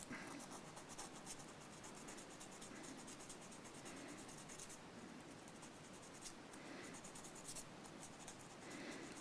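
Sandpaper rubbed back and forth on the saddle of a Yamaha AES620 acoustic guitar, a continuous soft scratchy rasp with rhythmic strokes, close and quiet, with no talking.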